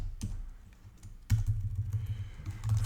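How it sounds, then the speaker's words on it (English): Keys clatter on a computer keyboard in short irregular bursts, close and fairly quiet, with a denser run of taps in the second half and no speech. "I'm just going to type an H1 here."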